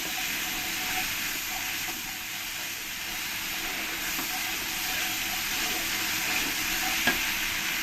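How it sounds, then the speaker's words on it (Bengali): A spice paste fries in oil over a medium flame for a pointed gourd curry, giving a steady, even sizzle with soft scraping as it is stirred, close and continuous with no voices. "মশলাটাতে ভালো করে তেলটা ছেড়ে দিয়েছে এবার ভালো করে আমি নেড়ে দেবো"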